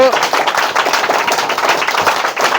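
A room of children clapping for a brother and sister who each scored 98 percent, with dense, fast claps throughout, close and fairly loud, and a voice briefly heard at the start.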